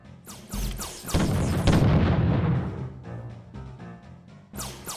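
Ship cannons boom in the Treasure Planet: Battle at Procyon video game, several sharp blasts with one long rolling volley, then a fresh shot at the end.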